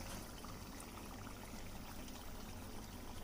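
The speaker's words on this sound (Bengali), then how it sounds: "তিন টেবিল চামচ ভিনিগার দিলাম আর তিন চা চামচ সয়া সস আর এক কাপ টমেটো কেচাপ" Vinegar, soy sauce and tomato ketchup pour into a pan for homemade Schezwan sauce, giving a steady, dense liquid wash that runs unbroken and fairly loud, with no voices.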